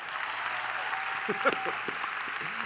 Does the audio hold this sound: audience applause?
yes